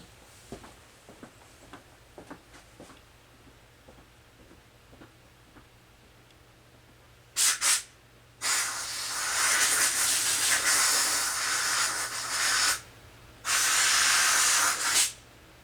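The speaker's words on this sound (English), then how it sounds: "bear with me a moment while I go to my air compressor." An air compressor nozzle blows debris out of the engine cylinder of a Homelite XL-2 chainsaw, heard as loud bursts of hissing air, one short and two long, after a stretch of quiet ticking and clicks, with no speech.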